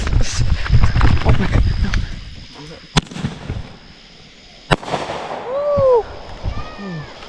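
Budget consumer fireworks set off outdoors on July 4, with a couple of sharp loud bangs, crackling bursts and whistling rockets, while people talk and shout throughout.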